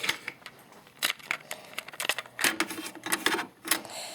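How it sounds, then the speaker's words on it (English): A cassette tape is pushed into the tape deck of a Sharp CD-C2610 three-CD changer and double-cassette stereo, giving a quick run of sharp plastic clicks and clacks, close and fairly quiet, with no talking. "I will now switch to the tape. Put a tape in."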